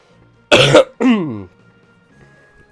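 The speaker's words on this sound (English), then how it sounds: "My apologies about the cough." A person coughs once sharply and then clears the throat, two close, loud bursts in quick succession against near silence.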